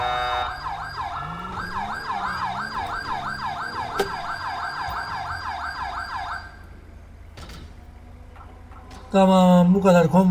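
A wailing ambulance siren in the video game GTA V cycles steadily up and down for several seconds, then cuts out, leaving quieter engine noise before a loud siren burst returns.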